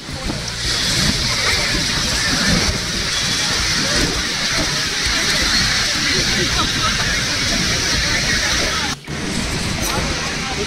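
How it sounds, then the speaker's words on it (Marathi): Rough sea at Gokarna beach in Karnataka roars as a steady, loud wash of breaking waves and surf, constant throughout with a brief dip near the end, while a person talks over it. "लाटा वगैरे येतात. समुद्र पूर्णपणे खवळलेला आहे."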